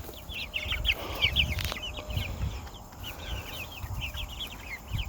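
Chickens, including a rooster, clucking and chirping in a steady, busy chorus, with a low rumbling background and a brief sharp knock partway through.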